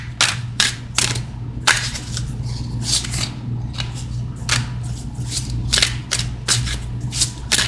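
Tarot cards are shuffled by hand, producing a series of crisp, sharp riffles and snaps at an irregular rhythm, close and fairly loud over a quiet room hum.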